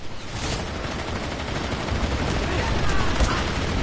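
Gunfire in a video game scoring headshots, heard as a dense, rapid burst of shots with a steady rattle over a noisy mix, fairly close and sustained throughout.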